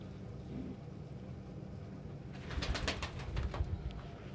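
After a couple of seconds of quiet room hum, a pet bird gives a short run of low, soft coos, close by and moderately loud.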